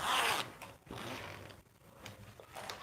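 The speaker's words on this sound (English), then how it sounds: "I'll just open up my zipper like this." A zipper on a sewn garment is pulled open in a few quick rasping strokes: a long run at the start, then shorter bursts. The sound is close and moderately loud, with no talking over it.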